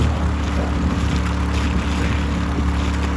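Homemade ice eater motor running at full throttle in cold water, angled down and sucking some air: a loud, constant low motor drone with churning, splashing water noise, close and steady throughout.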